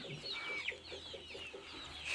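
Desi hens and chicks in a farm shed in Pakistan, a soft rhythmic run of clucks with high chick peeps over it, fairly quiet and close, with no talking.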